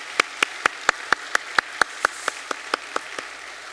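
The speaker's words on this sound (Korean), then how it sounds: "우리 박수로 환영하겠습니다." During a Korean Sunday church service welcoming a newly registered family, sharp claps ring out one at a time in a steady, evenly spaced rhythm, about fourteen in under four seconds, crisp and close against a quiet background.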